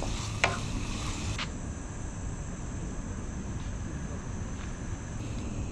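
A steady sizzle and bubbling of tomatoes, mussels and crab cooking in a pan, continuous and fairly close, with a brief clatter near the start.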